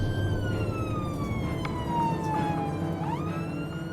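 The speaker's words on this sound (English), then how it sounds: "I have missed the sirens on my 18 days off." An ambulance siren wails continuously, loud and close, its pitch sweeping down and then switching tone near the end over road noise.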